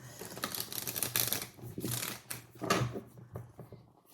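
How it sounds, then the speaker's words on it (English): Tarot cards are shuffled by hand in quick bursts of riffling and slapping, close and fairly quiet, with short pauses between rounds. "Shuffling for Taurus."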